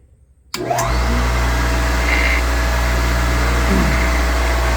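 Refurbished lapidary grinding equipment and a shop vacuum switch on together after brief quiet, their motors jumping to a loud, steady hum and whine that runs on without a break.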